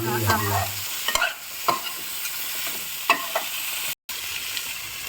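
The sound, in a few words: stir-frying cauliflower with masala in pan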